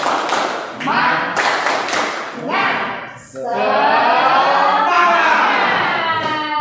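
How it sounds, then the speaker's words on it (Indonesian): A classroom of pupils performs a rhythmic spirit clap, sharp bursts of clapping in a patterned beat, followed by a chorus of children's voices chanting loudly together, close and lively. "Yuk, kita mulai tepuk semangat."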